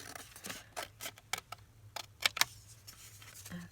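Scissors snip through paper for a scrapbook card page, a run of short, crisp cuts in an uneven rhythm with two sharper snaps near the middle, close and fairly quiet, no voices.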